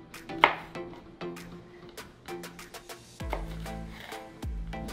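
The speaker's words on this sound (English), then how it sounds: "now we're going to cut our chile serrano" A knife chops serrano chile on a cutting board in a home kitchen, giving a steady run of sharp, close taps with a few heavier knocks near the end.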